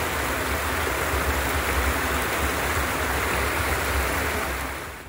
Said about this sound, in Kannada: ಇಲ್ಲಿ ಒಂದು ಸಣ್ಣಕ್ಕೆ ನೀರು ಹರಿಕೊಂಡು ಬರ್ತಾ ಉಂಟು.